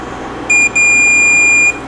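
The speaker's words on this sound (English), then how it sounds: "I'm going to put this in diode test mode or continuity so we can hear it." A multimeter in continuity mode beeps while probing the contacts of a relay in a Marantz 1070 amplifier under repair: a short, clear, high electronic tone, then a brief gap, then a longer steady beep of about a second, with no talk.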